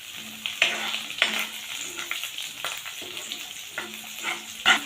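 Finely chopped green chillies and curry leaves fry in hot oil for chapati upama, giving a soft, steady sizzle broken by a few sharp spoon scrapes against the pan.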